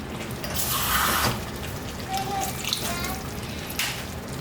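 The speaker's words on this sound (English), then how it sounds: "I'm just going to add a splash of water to this, a tablespoon or 2 of water, just to get a bit more sauce going." A splash of water goes into a hot pan of sizzling curry tomatoes, giving a brief burst of hissing and spluttering that settles into a steady crackling sizzle.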